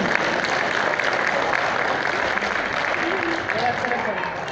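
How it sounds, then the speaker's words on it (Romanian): Steady, dense applause from a club audience at a live stage performance, a continuous wash of clapping with faint voices mixed in. "De data asta, aplauze pentru dumneavoastră,"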